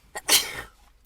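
A single close, sharp human sneeze with a short intake just before it, loud and alone against a quiet background.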